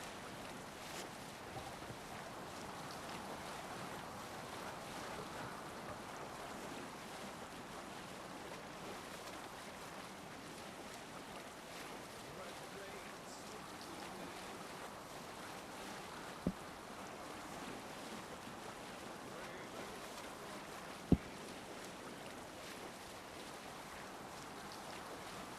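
A sailing ship glides over waves in Assassin's Creed Valhalla, a steady soft wash of water and wind with a continuous faint hiss and a couple of tiny clicks, low and even throughout.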